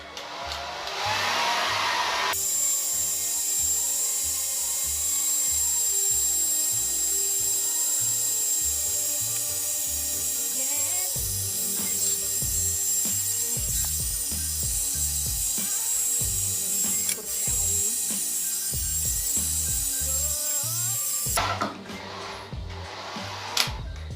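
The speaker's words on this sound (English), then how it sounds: "now that we have blow dried the hair into place with the product in it" A hair dryer roars continuously as it blow dries hair styled with product, with a steady high airflow whoosh and shifting muffled rustles as the airflow moves, then switches off near the end.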